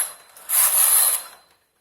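A knitting machine carriage slides across the needle bed while knitting a jali lace pattern, giving one short mechanical rasping sweep that swells, holds for under a second, then fades to silence.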